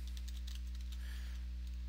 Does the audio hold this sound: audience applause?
no